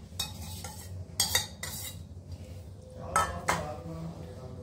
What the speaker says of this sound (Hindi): एक बार इसे मिक्स कर लेंगे।